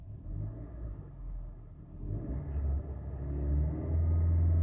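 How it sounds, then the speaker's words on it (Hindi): A parked Hyundai Creta S engine revved to around 3000 RPM, a steady low rumble that swells gradually and stays fairly quiet and smooth. "और ये 3000 RPM पे कितनी साउंड करती है गाड़ी? अभी जैसे खड़ी है तो कितनी साउंड करेगी रेफ करने पे?"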